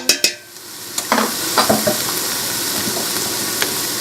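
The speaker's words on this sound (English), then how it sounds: "So I'm just going to go ahead and put this much garlic in there." Garlic drops into hot oil in a soup pot and is stirred, starting with a few sharp knocks and clinks, then a loud steady sizzle with spoon scrapes underneath, heard close and without talk.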